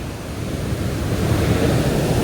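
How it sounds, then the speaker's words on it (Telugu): Water gushes out of opened dam gates in a loud, dense, continuous roar that swells slightly and never pauses, heard up close with no voices. "ఇక్కడ నుంచి వస్తున్నాయి వాటర్"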